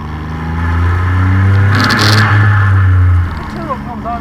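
A 1992 Suzuki Cappuccino's small turbocharged engine revs up while driving, a loud, close rising drone that climbs in pitch and then drops away as the throttle eases, with someone talking over it.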